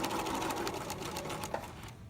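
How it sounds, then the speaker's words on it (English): A sewing machine runs a reinforced stitch on a pillow, a fast, even mechanical whir close by that runs steadily and then stops near the end. "I'm just going to continue with my reinforced stitch a little bit"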